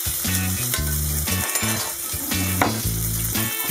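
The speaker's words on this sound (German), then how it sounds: "Und brutzeln lassen." Steady crackling sizzle of Wollwurst sausages frying in a pan, continuous and close, with occasional clinks.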